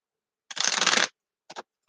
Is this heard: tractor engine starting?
no